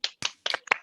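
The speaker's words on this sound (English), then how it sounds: "please take yourselves off mute for a minute to give a big round of applause for our" Four sharp, separate hand claps in under a second at an online city council forum, close and crisp with brief silences between them, like one or two people clapping near a microphone.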